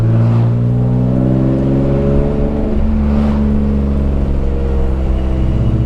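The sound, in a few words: BMW E36 M3 race car engine revving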